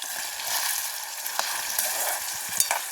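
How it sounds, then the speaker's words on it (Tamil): Potatoes frying in hot oil in a village kitchen, a close, steady crackling sizzle with a few sharp pops and stirring scrapes. "நல்லா பொரியும் உருளைக்கிழங்கு"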